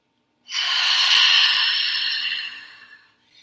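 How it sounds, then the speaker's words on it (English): A long, steady hissing ujjayi-style exhale through a constricted throat during an Ashtanga yoga class, close and fairly loud, swelling at first then slowly fading away. "So breathing out and creating this hissing sound"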